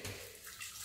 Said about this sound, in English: So I want to pour some water over here. Some of the stockfish stock.